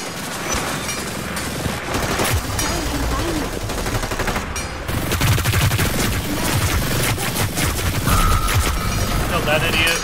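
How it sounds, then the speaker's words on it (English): Heavy, near-constant gunfire from the Hyper Scape battle royale game fills the scene with overlapping shots from many directions, loud throughout, and a player's voice speaks over the firing. "Being shot from so many different places."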